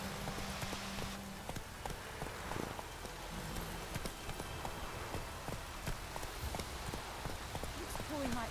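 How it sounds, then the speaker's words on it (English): Horse hooves clip-clop at a gallop in The Witcher 3 on PS4, a rapid rhythmic pounding mixed with rain-like patter and game ambience, while a voice speaks over it. "Run, Roach. Move it"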